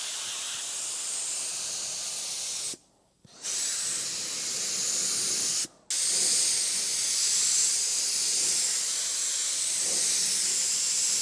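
A spray gun sprays finish onto a guitar body, a close, steady airy hiss broken by two short pauses where the trigger is released before spraying resumes.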